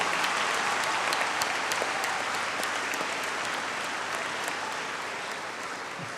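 Sustained audience applause at a secondary school Model United Nations event in Ogun State, dense and steady throughout with scattered sharper claps, fading slightly toward the end.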